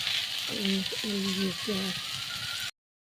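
Pointed gourd (potol) sizzles steadily in hot oil in a kadai, a soft continuous hiss with a voice talking over it for most of the short stretch before it cuts off.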